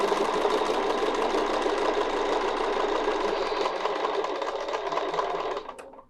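A sewing machine runs steadily while stitching a quilt block, a dense continuous mechanical whir that holds for several seconds before slowing and stopping at the end.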